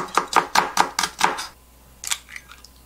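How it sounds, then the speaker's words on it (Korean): Knife finely shredding cabbage and onion on a cutting board for street-style toast: six brisk, evenly spaced chops, then a pause and a few lighter taps, close and clear with no talking. "양배추와 양배추 채썬 것과 양파 생으로 먹을 거기 때문에 조금만 가늘게 채썰어 주겠습니다."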